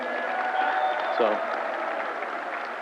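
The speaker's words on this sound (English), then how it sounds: "Let's give a round of applause for Paul." A steady wash of crowd applause fills a Lightning Hall of Fame ceremony, dense and sustained throughout, with a voice faintly audible underneath.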